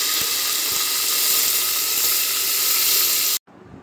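Onion paste sizzles loudly in hot oil inside a pressure cooker with bay leaves, cloves and black pepper, a dense, steady hiss heard up close for over three seconds before it cuts off abruptly, with no talking.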